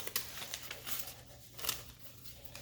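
Scissors snipping through paper while practicing cutting along lines at home, a run of soft, crisp crinkly cuts and rustles, quiet and close.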